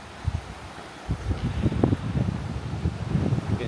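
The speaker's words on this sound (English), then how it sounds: "Getting into that breezy section again." A breeze on an Appalachian Trail section near a waterfall buffets the microphone in low, uneven gusts, with a faint rustle over a soft airy background.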